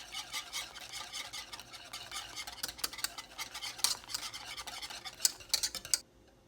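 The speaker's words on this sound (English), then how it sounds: "Add the last bit and stir," Homemade watermelon jam is stirred in a pot, with a spoon scraping and clicking in quick, uneven strokes against the pot for several seconds before stopping abruptly.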